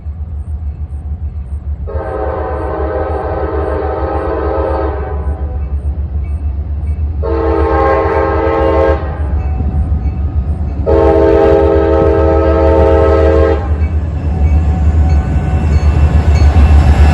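A loaded rail work train rumbles steadily past in central Ohio, its low wheel and engine drone constant throughout, while the horn sounds three loud blasts: a long one, a short one, then another long one.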